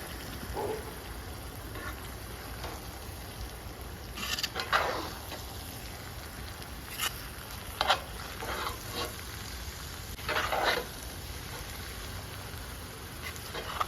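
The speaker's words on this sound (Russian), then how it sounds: "Потихонечку перемешиваю." Pilaf is stirred in a kazan over a campfire: intermittent scraping strokes of a utensil in the rice sound over a soft, continuous sizzle, close and moderately quiet.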